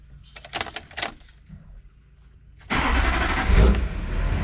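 A restored Chevrolet Impala cranks and fires up: quiet clicks and shuffling give way to the engine catching, then a steady, loud idle rumble close by.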